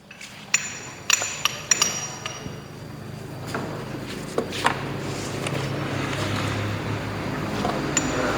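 A hammer and dolly strike a car body panel in a workshop, giving a handful of sharp metallic clinks early on and then scattered taps over a steady background rumble.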